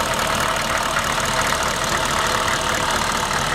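A factory-original 6.5 turbo diesel engine in a half-ton short-bed truck idles with a loud, steady, even rumble at close range, and no one speaks over it.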